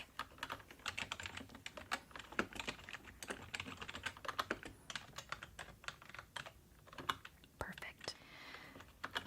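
Soft, steady computer keyboard typing at a cozy cabin check-in desk, continuous irregular key clicks close up, with faint whispering in the background.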